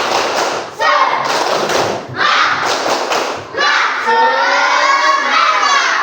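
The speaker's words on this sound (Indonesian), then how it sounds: "Ya, kalau dah lebih semangat, coba tepuk semangat." A group of schoolchildren performs the tepuk semangat clapping chant in a classroom, loud rhythmic bursts of claps and thumps mixed with shouted voices, broken by short pauses, ending in a sustained chorus of kids' voices.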